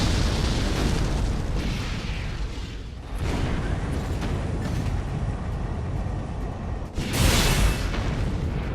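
Loud, sustained booming explosions roll on continuously in the video game Armored Core: For Answer, with a fresh burst swelling up near the end, dense and rumbling like game combat.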